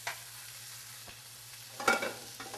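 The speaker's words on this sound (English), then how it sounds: "There's a sound of a sizzle, and the sound of a sizzle means that you're creating flavor" Onions sautéing in a pan with no liquid, a soft, steady sizzle under a low constant hum, with a brief louder scrape of stirring near the end.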